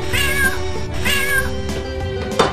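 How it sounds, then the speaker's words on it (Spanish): A cat meows twice, long drawn-out cries up close, followed by a quieter fainter mew and a brief sharp click at the end. "el gato"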